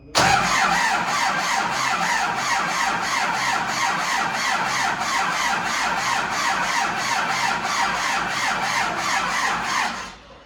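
An MTZ tractor engine cranks on its starter motor for about ten seconds, a loud, steady rhythmic churning with squeal and scraping that cuts off at the end without catching.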